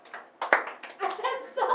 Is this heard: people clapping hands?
yes